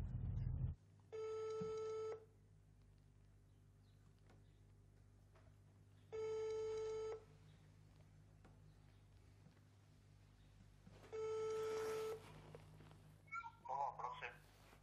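A telephone rings in repeated bursts with pauses between them, clear and fairly near. A brief clatter comes near the start, and a voice speaks at the end.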